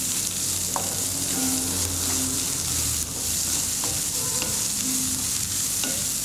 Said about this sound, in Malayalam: ക്യാരറ്റ് ചോപ്പ് ചെയ്തത് സവാള ചോപ്പ് ചെയ്തത് ഇത്രയും ഇട്ടതിന് ശേഷം വീണ്ടും നന്നായിട്ടൊന്ന് വഴറ്റി കൊടുക്കാം